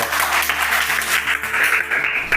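A crowd claps energetically in a dense burst, the applause continuing steadily for a couple of seconds over a faint background hum, at a village public gathering in Achpura, Sirohi.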